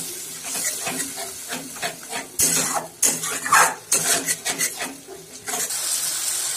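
Coriander and cumin spice paste cooked down with water in a pan over medium heat, with continuous hissing and bubbling under repeated scraping of a spoon against the pan, close and steady.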